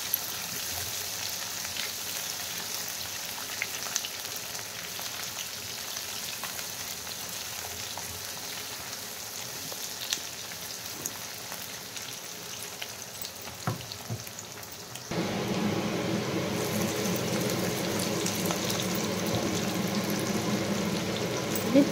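Chopped onions frying in hot oil in a home kitchen, a steady broadband sizzle that turns louder and denser partway through, as if more onion hits the pan, continuing without pause and with no talk.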